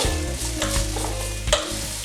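Onions sizzle steadily in hot olive oil in a saucepan, a close, continuous frying crackle with occasional stirring scrapes.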